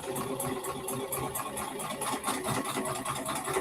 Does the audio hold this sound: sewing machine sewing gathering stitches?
yes